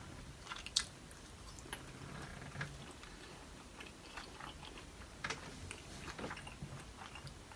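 Soft, close chewing of red skin potatoes at a steak-and-shrimp meal, with irregular moist bites and a sharper crunch near the start, quiet and steady with no talking.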